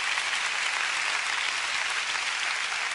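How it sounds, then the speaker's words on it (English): Steady, dense applause from a large church congregation, clapping continuously at even volume throughout. "let's give your leadership a round of applause and appreciation."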